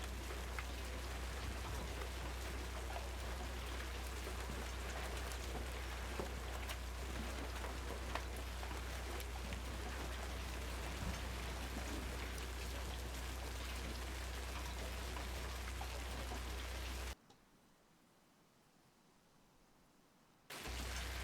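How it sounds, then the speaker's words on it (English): Heavy, steady rain pours in the storm chasing video game Twisted, a dense continuous hiss that cuts abruptly to near silence for a few seconds before resuming. "suddenly I just got hit by a blinding set of rain."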